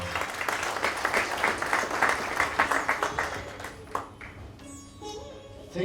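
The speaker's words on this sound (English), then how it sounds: "let's applaud this couple, Akash Viyalka and Viyalka Singh" Wedding guests at a coastal venue applaud the couple, a full steady round of clapping that fades out over several seconds into quieter room sound.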